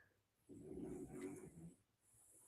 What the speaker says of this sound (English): This snoring guy behind me.